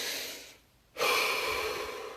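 A single deep inhalation during a guided relaxation session: a brief hush, then a long, close, breathy rush of air that slowly tapers off, with no voice over it.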